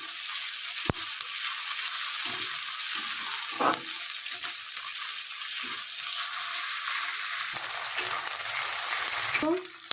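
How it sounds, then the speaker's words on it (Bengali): Onion and ginger paste frying in oil for a fish curry, a steady bright sizzle with occasional scrapes and stirs of a spatula in the pan, close and continuous. "আদা বাটা পেঁয়াজ আর আদা বাটা ভালো করে তেলের উপর ব্রাউন কালার করে নেব ভেজে নিয়ে"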